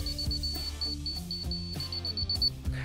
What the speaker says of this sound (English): As I get below it, you can hear the beeps get slow.